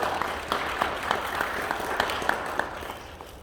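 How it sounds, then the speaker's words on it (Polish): An audience applauds at a school ceremony inducting first-grade pupils: a dense, even patter of many hands clapping for several seconds, fairly near, with no voices over it. "Izabela, pasuje Ciebie na uczennicę naszej szkoły i brawa dla Izabeli."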